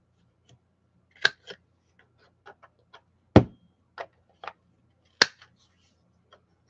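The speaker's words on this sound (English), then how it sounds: "let me get these cut" Scissors cut through junk journal paper sheets, close up: a series of sharp, crisp snips at uneven intervals, some loud and some soft, with near silence between them.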